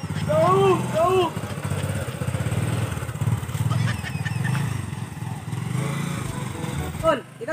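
A motorcycle engine runs steadily nearby with a rough, pulsing putter, while several people talk over it throughout.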